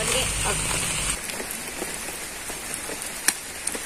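Rain falls steadily, with dense patter on surfaces and occasional sharper drops striking close by, heavier at first and then easing to a lighter, even shower.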